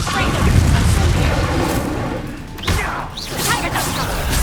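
Fiery Confringo spell blasts in Hogwarts Legacy, a dense run of booming explosive bursts that fills the whole stretch, with a sharper impact near the middle and game combat noise throughout.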